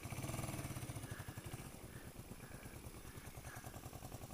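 A 1980 Yamaha XS400 Special II motorcycle engine runs on choke while warming up, a steady, pulsing low idle putter, moderately close and fairly quiet, with no talking.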